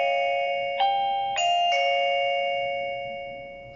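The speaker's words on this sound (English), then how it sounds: "Press the bell button" An XTU wireless video doorbell chime rings after its bell button is pressed, sounding a clear multi-note electronic melody that steps up in pitch and lingers before fading, with no voices.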